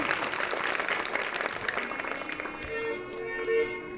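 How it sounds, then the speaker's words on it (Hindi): An audience at a Ramlila performance applauds, dense steady clapping from many hands that gradually thins and fades out toward the end. "जोरदार तालियों से स्वागत करेंगे सभी का"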